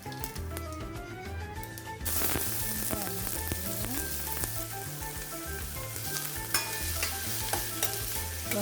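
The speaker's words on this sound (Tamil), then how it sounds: "எண்ணெய் சூடாகிட்டது கடுகு சோம்பை போடுவோம்" Mustard and fennel seeds dropped into a tablespoon of hot oil in a pan for Sri Lankan breadfruit curry, erupting into loud, close crackling and sizzling that continues steadily with stirring sounds after a quieter start.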